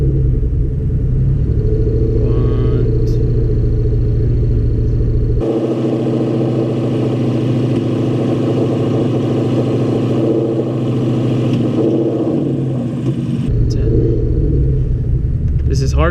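A car with a 5.0 engine idles at a standstill, a steady deep rumble that holds throughout while someone talks over it nearby.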